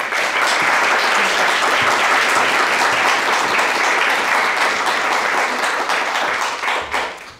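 Close, loud applause from an audience greeting speaker Jennifer at a presentation introducing the Book of Mormon Art Catalog, sustained clapping that tapers off at the end.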